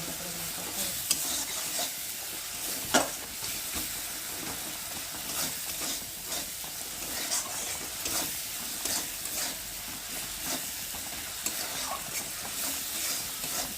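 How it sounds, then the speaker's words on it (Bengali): Spice masala for khichuri being stir-fried in a pan, a continuous dense sizzle with repeated scraping strokes of the spoon throughout, close and steady with no voices. "মশলাগুলো মশলার সাথে ভালোভাবে কষানো হয়ে গেছে"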